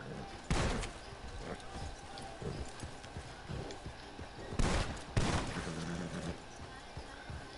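A few loud gunshots ring out in a video game amid trotting hoofbeats of a horse, with sharp reports near the start and a closely spaced pair later, over a busy ambient background.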